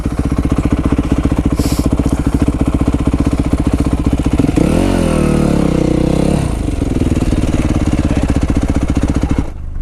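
Yamaha YZ 250 F dirt bike being ridden during engine break-in, its four-stroke engine buzzing loud and steady throughout, with a brief rise in revs midway before settling back to a constant drone.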